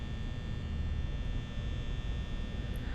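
A steady electric fan hum runs through the Five Nights at Freddy's horror game, a constant low drone with a faint buzzy edge, unbroken and without voices.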